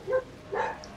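A neighbour's dog gives two short, fairly faint barks or yips about half a second apart, with no talk around them.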